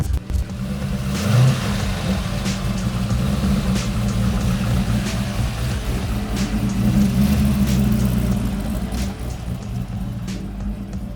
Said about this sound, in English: let's fire it up and let's go for a little drive around the neighborhood here